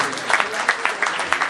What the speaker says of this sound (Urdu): زوردار تالی بجائیے بھائی